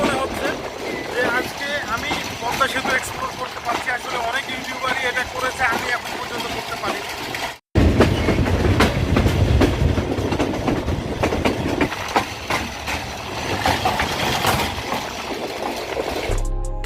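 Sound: Madhumati train starting to move from Rajshahi station

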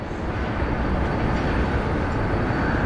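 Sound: freight train passing

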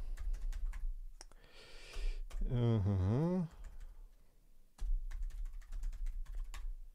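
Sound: typing on Raspberry Pi 400 keyboard

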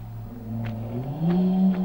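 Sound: loud motorbike passing outside

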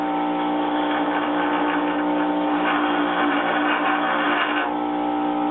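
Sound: bench grinder wheel being dressed

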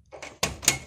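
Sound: closing a house door

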